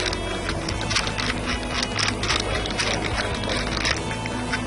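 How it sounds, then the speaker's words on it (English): A wheel is unscrewed on a Karcher B90 floor scrubber, giving a close, loud run of rapid ratcheting and mechanical clicking with dense grinding texture throughout. "So we unscrew the wheel, take off the cap"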